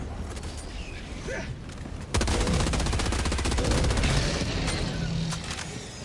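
A big gun in Helldivers 2 opens up in a dense, loud stream of rapid shots, sustained for several seconds after a quieter stretch of faint background noise and no talk.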